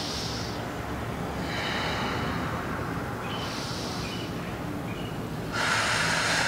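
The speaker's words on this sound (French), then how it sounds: "On respire profondément." Deep breathing during an easy grounding yoga session, with slow, audible in-and-out breaths repeating in a steady rhythm, close to the mic, the last one stronger, over a low constant background hum and without talk.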